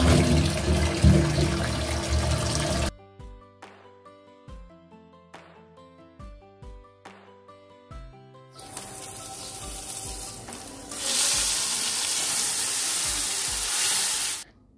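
Fish frying in hot oil tempered with nigella seeds, starting with a loud sizzle, then a quieter stretch of clinking and stirring, then a strong, steady hiss of frying rising again.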